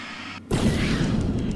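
A tremor effect fires in the video game Alan Wake: The Signal, a sudden heavy rumbling boom after a brief hush, sustained and loud with deep low rumble.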